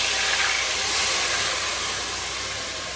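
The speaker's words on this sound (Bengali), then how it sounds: "এখন আমি এই যে মধ্যে ছেড়ে দিচ্ছি মাংসগুলো।" Marinated meat, coated in turmeric, salt, raw oil and ginger, drops into hot oil in a pan, giving a loud, steady broad hiss and sizzle that fades slightly, with no voices.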